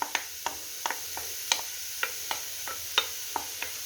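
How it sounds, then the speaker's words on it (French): Finely chopped leeks sweating over medium heat in a pan, with a quiet steady sizzle beneath a run of sharp, regular ticking taps from a utensil stirring against the pan, close and without talk. "on va suer les poireaux"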